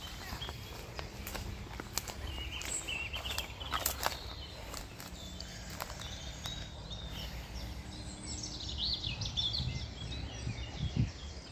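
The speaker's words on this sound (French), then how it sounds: "Le troglodyte mignon vient de faire son apparition." A Eurasian wren sings in bursts of high, bright trills outdoors, moderately distant, over a soft rustling background with some footstep-like shuffles.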